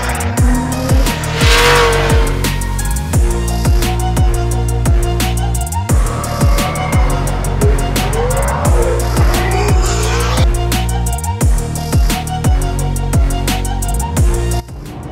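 Drift cars racing at Formula Drift Long Beach, with loud engines revving and bouncing off the limiter, tire squeal rising and falling, and a continuous dense roar of passing cars throughout.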